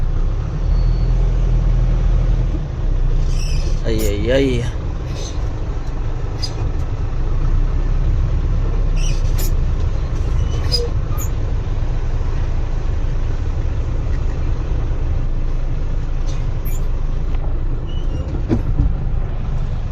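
Road traffic on a congested route back toward Curimaw: a steady, loud low rumble of passing engines with occasional squeals and clatter, and a voice briefly exclaims over it.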